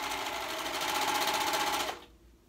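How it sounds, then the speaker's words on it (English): A sewing machine stitches the front edge of a kid's raglan hoodie, a fast steady whirring run that stops abruptly near the end, with no talk. "now I'm gonna go and sew up together that front edge"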